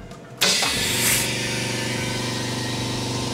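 An LCD bubble remover machine used in phone screen glass repair switches on with an abrupt loud start, a brief hissing burst, then settles into a steady, continuous mechanical hum and whir.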